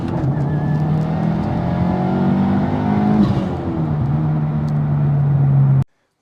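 A 2022-or-newer Subaru WRX with a new Whiteline front sway bar and SMY front endlinks accelerates hard through a full pull, its engine note climbing steadily and loud before cutting off abruptly.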